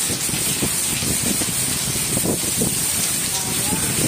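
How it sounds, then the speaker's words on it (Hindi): Heavy rain pours down during a storm with hail falling, a dense continuous roaring hiss that fills the scene, loud and close, with a voice faintly speaking beneath it. "अज बारिश बड़ी तेज है,"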